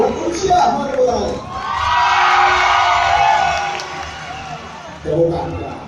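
A crowd at a student ambassador pageant in Aceh bursts into cheers, whoops and applause that swell and hold for several seconds between an announcer's lines, then fade as he talks again.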